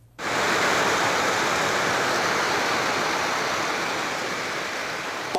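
Rainwater rushing down a flooded street in heavy rain: a loud, steady, broadband roar of churning water that begins abruptly and holds constant throughout, with no voices.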